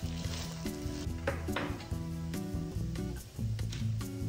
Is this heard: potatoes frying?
yes